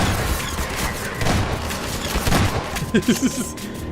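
Machine gun fire in Half-Life 2 during the battle for City 17, rapid bursts blending into a dense stream of gunfire and impacts, loud and continuous, ending with a few sharp closely spaced shots.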